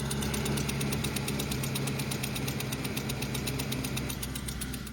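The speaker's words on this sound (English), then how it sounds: "Customer states, knocking sounds from engine." A car engine with a knocking fault runs steadily with a rapid, even metallic ticking over a droning idle, loud and close throughout with no voices.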